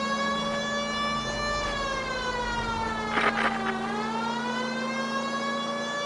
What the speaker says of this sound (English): Put on the siren.